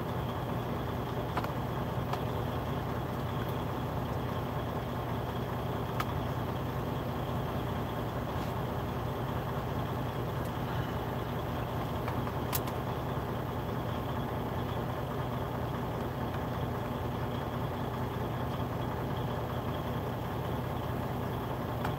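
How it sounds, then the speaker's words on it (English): A truck maneuvers back and forth while backing into a parking spot beside a van, its engine a steady idling rumble at moderate distance, continuous throughout with no talk. "that truck is going all over the place trying to back in"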